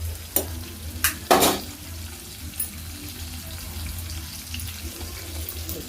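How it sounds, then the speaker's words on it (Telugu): Curry leaves go into hot oil for semiya upma, with a few sharp crackling bursts at first, then a quieter sizzle as the pan is stirred. "కొంచెం కరివేపాకు వేసుకొని ఒకసారి కలిపేసుకుంది."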